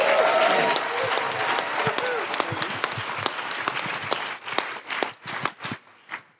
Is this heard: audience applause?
yes